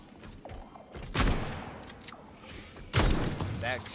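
Shotgun blasts in the video game Atomic Heart: two loud, heavy booms about two seconds apart, each with a long rumbling tail, over low background game noise and faint sounds.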